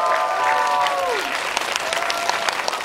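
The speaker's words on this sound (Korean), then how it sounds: "다시 한번 뜨거운 박수 부탁드립니다" An audience in a Lotte Cinema World Tower screening hall applauds at a film guest event, a dense, sustained burst of clapping that fills the room, with a few brief tonal sounds at the start.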